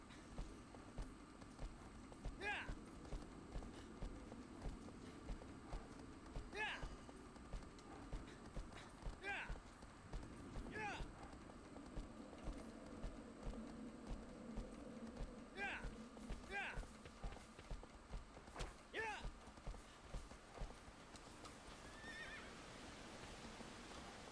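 Horse hooves clip-clop in a steady, moderately loud rhythm in a PS3 video game, with occasional neighs and sharp clicks, while a voice talks quietly over the game sound.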